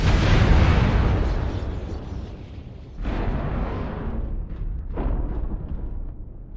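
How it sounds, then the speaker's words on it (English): Loud video game explosions in the mech combat game Mechanized Mayhem, a big booming blast that fades slowly, followed by two more rumbling bursts several seconds apart, with no speech. "Explosion detected"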